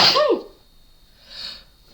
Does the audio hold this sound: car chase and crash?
no